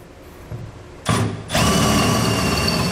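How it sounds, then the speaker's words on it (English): A power drill with a half-inch bit bores holes through the bed of a 2020 Toyota Tundra for a gooseneck trailer hitch, short bursts spinning up then a sustained loud whirring grind, close and alone. "We're going to use a half-inch drill bit to drill these out."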